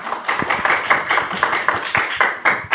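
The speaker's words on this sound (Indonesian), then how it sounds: "Kasih tepuk tangan untuk temannya" Students in a classroom applaud a classmate, a dense, close patter of many hands clapping in uneven bursts for a few seconds without speech.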